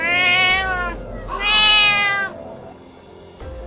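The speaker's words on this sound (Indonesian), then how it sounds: "Ternyata hanya kucing." A cat meows twice in long, drawn-out, high calls, close and loud, followed by a quieter pause and a faint short sound at the end.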